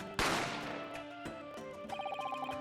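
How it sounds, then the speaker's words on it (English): A gunshot sound effect from the video game The Great Ace Attorney Chronicles: one sharp, loud crack that rings out and decays, followed by lighter clicking and chiming game tones, with no voices. "A gunshot rang out"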